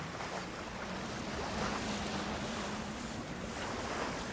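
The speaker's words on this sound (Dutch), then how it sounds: "Het is mooi dat het echt wel waait hier" Steady wind buffets the microphone over open water during a traditional skûtsje sailing race on the lake off Lemmer, a dense, continuous rushing with waves and no talking.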